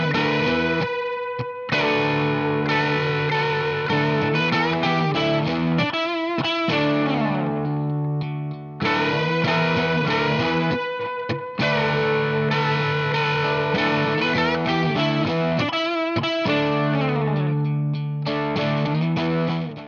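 A distorted electric guitar plays a blues-rock lick, opening with unison bends and sustained, effects-laden phrases. It is loud and continuous, with a couple of brief gaps, and no one talks.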